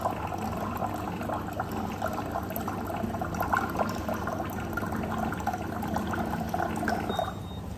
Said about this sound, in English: so it's filling up the glass